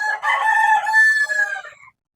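A single rooster crows on a chicken farm run at business scale, one loud, close cock-a-doodle-doo with a strained, raspy finish that ends cleanly into silence.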